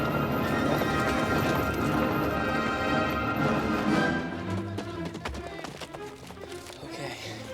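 Horses of the Australian Light Horse cavalry approaching, rapid massed hoofbeats and whinnies that fade slightly as the galloping continues.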